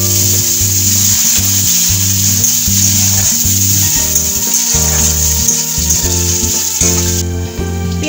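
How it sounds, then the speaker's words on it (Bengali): Chopped onions and panch phoron five-spice frying in a pan, a loud, close, continuous sizzle with a steady hiss throughout and no voices. "দিয়ে দিচ্ছি সামান্য পরিমাণে পাঁচ ফোড়ন, আর আগে থেকে কুচি করে রাখা পেঁয়াজগুলো দিয়ে দেবো।"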